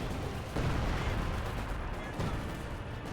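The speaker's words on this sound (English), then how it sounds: "Concentration barrage." Artillery from a concentration barrage in the World War II strategy game Company of Heroes 2, a dense rumble of overlapping explosions and gunfire-like blasts, loud and continuous with a heavier burst near the start and another later.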